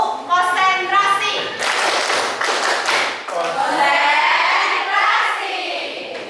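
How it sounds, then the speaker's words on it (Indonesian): Schoolchildren in a classroom play a rhythmic concentration clapping game, with bursts of claps and taps alternating with a teacher's voice and the children's chanted responses, all up close and lively. "Tepuk konsentrasi"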